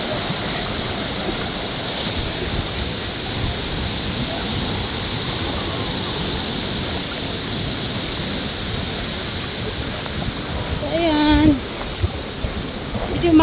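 Ocean waves and flowing water at low tide on Horseshoe Beach, Bermuda, a steady broadband rush of surf near rocks and seaweed, close and continuous, with a brief bird-like chirp and some handling noise near the end.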